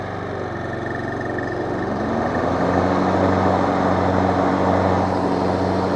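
A Husqvarna HU775 lawn mower engine runs steadily at close range, its low drone rising slightly in pitch and loudness partway through, then holding a constant hum with no talking.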